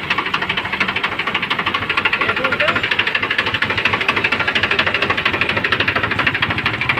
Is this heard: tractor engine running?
yes